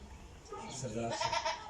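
A goat (billy goat) tethered outdoors bleats faintly in short wavering calls amid low background murmur and voices, ahead of being prepared for a whole roast in Mansehra.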